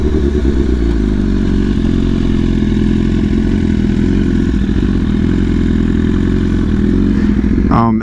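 A loud BMW S1000RR sport motorcycle engine runs close by with a deep, throbbing idle that revs up slightly near the end.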